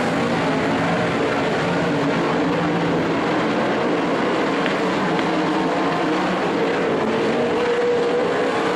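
360 sprint cars racing at Skagit Speedway after a restart: a dense, loud, continuous roar of many engines with shifting pitch and no pause, heard from the track side.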